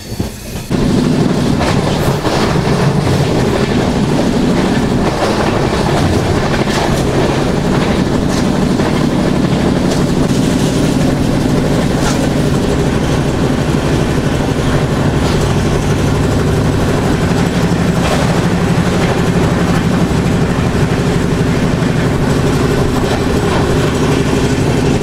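The Andaman Express with new LHB coaches rolling on the Chennai to Katra route, a loud continuous rumble with clickety-clack of wheels over rail joints heard from aboard for the whole stretch.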